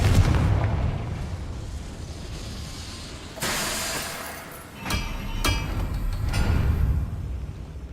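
A Confringo spell in the video game Hogwarts Legacy erupts in a loud blast, followed by a couple of sharp cracks and rumbling debris over a steady game background.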